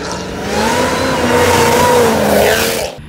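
A 426 engine fitted with a Dodge Demon supercharger revs hard and sustained, a loud, rising and falling supercharged roar with whine, close by and alone for about three seconds.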